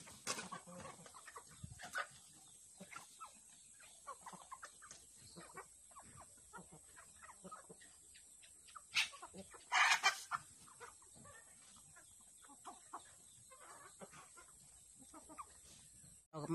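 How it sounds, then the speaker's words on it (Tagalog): Chickens cluck and chatter continuously nearby, with a few louder squawks partway through, over faint background hiss. "daghan kayo sila og manok"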